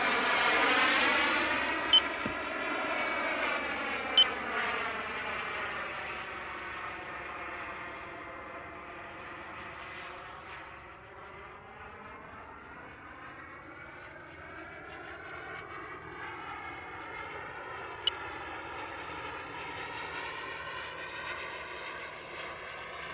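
A BVM T-33 model jet makes a low pass over a runway, its steady engine whine rising and falling in pitch as it approaches and recedes, loud and continuous throughout with a few faint beeps.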